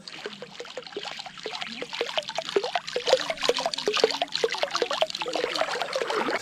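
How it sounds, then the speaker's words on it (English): A Chasebaits Smuggler topwater fishing lure is worked across the water surface, making a steady run of quick, repeated bloops and watery splashes close by, with no talking. "It makes a really nice blooping kind of a sound, like a bloop, bloop, bloop, bloop, bloop, bloop, bloop, bloop."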